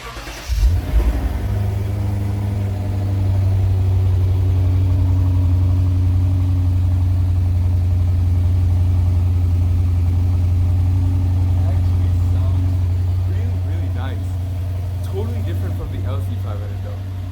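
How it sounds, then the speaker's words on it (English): A 2020 Lexus RC F Track Edition fires up with a sharp loud burst, then settles into a steady, deep, throbbing idle that holds for the rest of the time, close by and with no talk over it. "It's a very nice loud startup"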